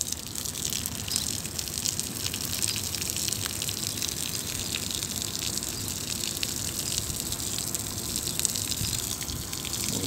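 Water gushes steadily into a low-lying garden plot where sweet potato greens are growing, a continuous broadband rush that stays loud and even throughout with no talking.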